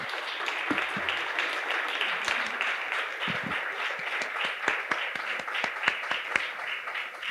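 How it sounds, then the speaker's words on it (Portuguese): A live audience at a talk event gives sustained applause, a dense patter of many hands with a few sharper close claps standing out, steady throughout with no speech. "eu lhes peço mais uma vez uma salva de palmas a esse nosso amigo Ciro Gomes."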